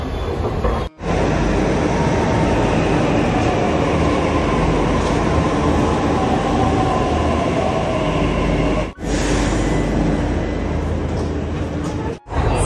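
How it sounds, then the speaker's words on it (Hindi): Delhi Metro train running from Malviya Nagar station, a loud, continuous rumble of rail travel, heard from inside the carriage with brief dips at a few moments. "मालवीय नगर मेट्रो से मैं मेट्रो लेता हूं, और यहीं से मैं जाता हूं राजीव चौक।"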